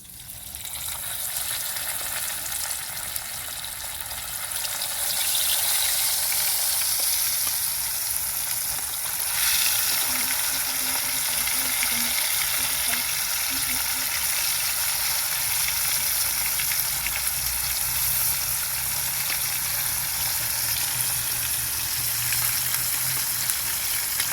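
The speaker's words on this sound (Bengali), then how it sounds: "তেলটা গরম হয়ে গেছে, দিয়ে দেবো আমি মাছগুলো।" Rohu fish pieces go into hot oil in a village kitchen and set off a loud, continuous crackling sizzle that swells after the first few seconds and holds steady, with no talking.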